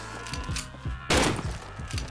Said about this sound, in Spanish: le he pegado dos tiros seguidos